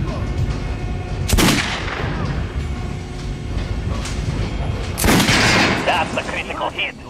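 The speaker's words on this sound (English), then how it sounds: "Now shoot the armored dummy." Gunfire aimed at an armored training dummy in the video game Metro: Last Light, with two loud sharp shots several seconds apart over a continuous rumbling background and no voices.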